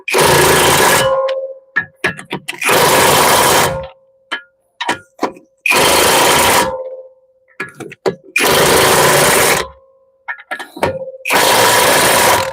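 An impact wrench hammers loudly in several long bursts of rapid rattling while tightening lug nuts, separated by pauses with lighter clanks and clicks, close by.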